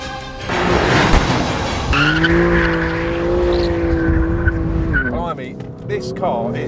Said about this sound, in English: And accelerating out of the last corner and across the line.